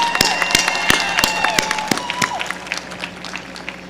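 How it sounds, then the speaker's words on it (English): Sparse, scattered hand claps from an audience at a university graduation ceremony, a handful of distinct sharp claps with background voices, moderately close. "Please give a round of applause to the graduating Fisk Jubilee Singers."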